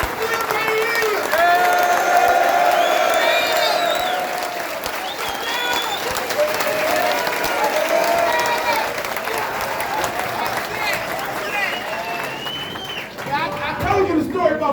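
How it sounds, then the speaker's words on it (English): A room full of high school football players applauds and cheers loudly and steadily, with voices shouting through the clapping before it fades away near the end. "So let's put your hands together."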